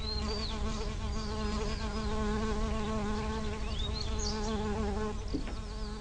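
Bees and other insects buzz around flowers, a continuous close drone with several overlapping wingbeat tones and occasional passing whines, steady throughout with no voices.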